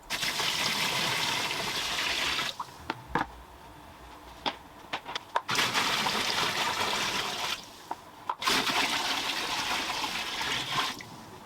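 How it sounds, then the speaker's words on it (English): Water poured from a container into an electrolysis tank for restoring a vice, two long loud gushing pours separated by a pause with a few knocks and splashes, no talking. "I'm gonna fill it up now with some water and some of the pre-mixed stuff, so it's a bit more see-through"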